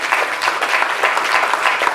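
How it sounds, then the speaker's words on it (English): A brief burst of steady, energetic clapping comes from an audience honouring the panel at a HeForShe panel discussion at Webster University Thailand, with no voices heard over it. "Can you give a big round of applause for our"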